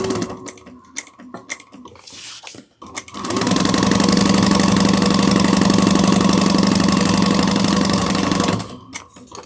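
A sewing machine stitches a bar tack on a crossbody bag: a few soft clicks and handling sounds, then a loud, steady mechanical whir with rapid needle rhythm running for about five seconds before stopping.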